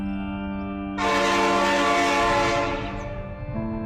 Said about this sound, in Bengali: তিন দিনের ছুটি শেষে ট্রেনে করে রিফাতের সাথে ঢাকায় ফিরছি।